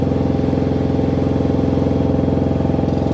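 Jigsaw-style cutter with a blunt blade cutting material to make a stamp, a loud, steady rapid buzzing chatter that holds an even pitch the whole time.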